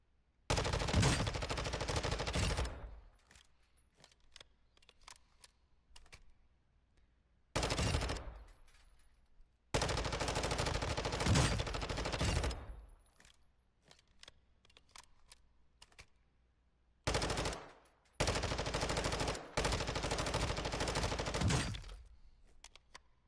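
Automatic gunfire from hip fire in Call of Duty DMZ: three loud, sustained bursts of rapid shots, each lasting several seconds, separated by quieter gaps with faint clatter.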